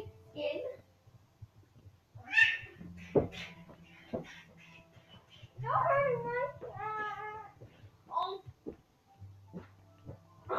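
A cat meows in Minecraft, a few short in-game cries mixed among children's chatter and play that carries on over most of the stretch.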